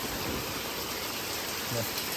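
Heavy rain pouring down on a village street, a steady dense hiss of water that fills the whole stretch with no clear breaks.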